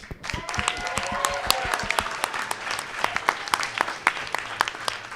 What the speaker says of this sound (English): Big round of applause for all of our teams.